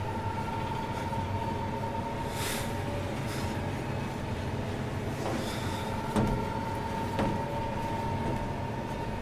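A train ride in the video game Final Fantasy XV gives a steady, continuous rumble and rolling hum of carriages on the rails, with faint clicks and clanks now and then, and no voices.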